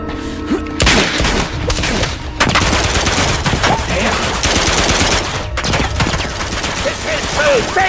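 Dense, loud automatic gunfire from the Uncharted 2 video game, sustained bursts of rapid shots filling the scene with sharp cracks and a continuous rattling barrage, with shouted voices partly buried underneath.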